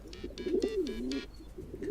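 Pigeon-like cooing from a bird in a Hiveswap game, a warbling, wavering series of coos repeated several times over two seconds, close and moderately loud with no talk.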